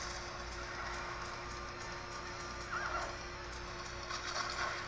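A griffin creature in the Lord of Arcana video game lets out a horse-like neighing cry, faint and wavering, against a steady game background.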